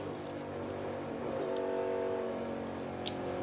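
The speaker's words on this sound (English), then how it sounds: "you hear Ryan really short shifting that car" A Ford NASCAR Cup race car engine at the Circuit of the Americas roars from an onboard camera, its drone rising and dropping as the driver short shifts through gears, loud and continuous with brief higher whines.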